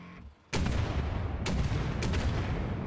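Gunfire from a mounted gun during a gate-crashing sequence in Wolfenstein: The New Order: a loud, sustained burst of shots starts abruptly after a brief quiet and runs on as a dense roar, with sharper cracks standing out twice.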